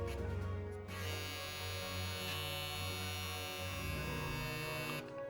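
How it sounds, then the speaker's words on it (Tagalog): A steady electric buzzing hum from a close, running Kiepe Diavel Mini magnetic-motor hair trimmer, continuous and even, with a brief shift in tone near the start and end. "Kiepe Diavel, this is magnetic trimmer. Magnetic motor. Pakinggan nyo."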